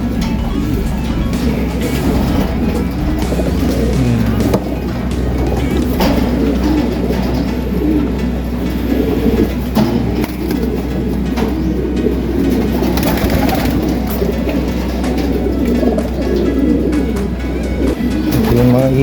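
Pigeons coo in low, repeated throaty calls amid busy loft ambience, with rustling and fluttering throughout and steady background noise, close and continuous.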